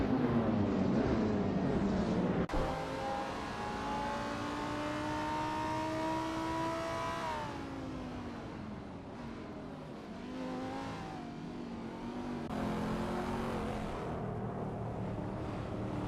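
Race cars in a racing video game roar past, continuous engine tones rising and shifting in pitch as vehicles overtake, loud and steady throughout with no talk.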